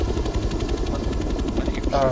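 Attack helicopter in the video game Arma 3, a steady droning rotor roar filling the whole stretch, loud and close with no break in its level.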